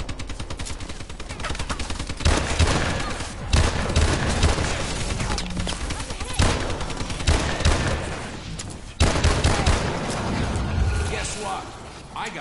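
Gunfire from self-firing turrets in a Call of Duty zombies match, rapid automatic bursts and fusillades rattling continuously and loudly, with players talking and exclaiming over the shooting.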